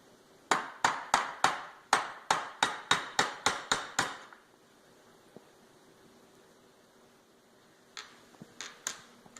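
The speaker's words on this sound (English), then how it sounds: "You want to tap it with that first to mark your spot." A quick run of about a dozen sharp, evenly spaced metallic taps from a tool used as a hammer to mark a spot, close and crisp, then a pause and a few more scattered taps near the end.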